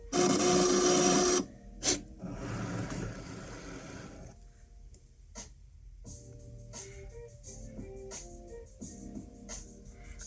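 A Cricut Maker 3 cutting machine makes its first cut, first with a loud burst of motor whir, then soft mechanical whirring, clicks and stepping sounds as the carriage moves back and forth.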